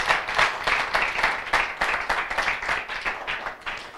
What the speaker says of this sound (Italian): Facciamo forte questo applauso a Gesù